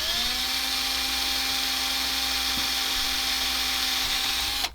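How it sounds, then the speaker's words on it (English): A steady, high-pitched whine of a small power drill drilling into an inkjet printer ink cartridge, running continuously up close, cutting off abruptly at the end. "So here, drill the second one."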